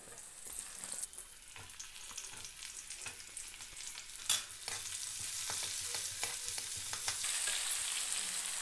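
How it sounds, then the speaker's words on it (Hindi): Onions sizzle and crackle steadily in hot oil for a jackfruit fry, with occasional stirring scrapes and pops, close and continuous. "अब हम इसमें प्याज ऐड करते हैं"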